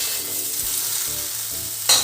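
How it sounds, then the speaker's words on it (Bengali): Vegetables frying in a pan on high gas for a homestyle fish curry, giving a steady, close sizzle throughout with a brief louder clatter near the end. "জোর করে দিই গ্যাসটা, দিয়ে আমি ভালো করে এবার ভেজে দিই।"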